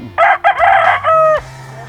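A rooster crows loudly and close at a chicken market in Bulacan, with one long crow broken into bursts followed by a second crow. Low market noise runs underneath.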